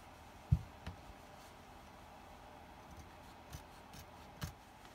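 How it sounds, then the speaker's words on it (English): Scissors cutting through two layers of flannel shirt fabric, producing faint, close crunching snips spaced irregularly over a quiet background. "I'm cutting through both layers."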